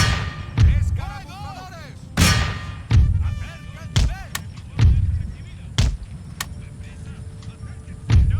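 Musket and cannon fire booms in an Empire: Total War battle: about eight loud, sharp blasts at irregular intervals, each with a short rumbling tail, over a busy background of battlefield noise.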